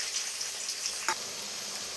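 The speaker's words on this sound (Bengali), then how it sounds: "কড়াইয়ে পেঁয়াজ চলে গেল," Small onions frying in a kadai, a steady bright hiss of sizzling oil with a few soft stirring clicks and one sharper spatter, close and fairly quiet, no talking.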